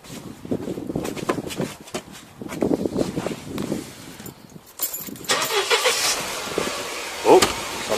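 A supercharged Mercedes CLK/SLK engine cranks and catches, then settles into a steady idle with a higher hiss on top; faint clinks and movement come before it.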